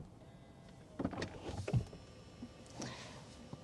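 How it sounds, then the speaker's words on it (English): A power-closing door on a Denza Z9 GT pulls shut with a short motorized whir and a soft latching thud, followed by a faint mechanical click. The sounds are close and moderate in a quiet cabin, with no talking. "I want to demonstrate that this does have power closing doors"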